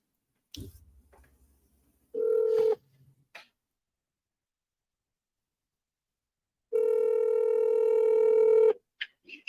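A telephone call being placed to a lender: a short tone, a pause, then a long steady tone lasting about two seconds, with brief clicks and handling sounds between, clear and close.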